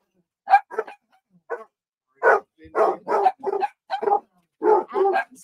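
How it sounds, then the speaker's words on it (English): Several dogs barking indoors in short, loud bursts and clusters with brief yips, separated by silent gaps and close to the listener. "I'm going to wait for them to get out of here so they'll quit barking"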